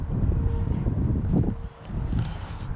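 Wind buffets an outdoor microphone while someone fills a small garden planter box with dirt, a steady low rumble with gusts that swell and dip, peaking midway then easing briefly before rising again.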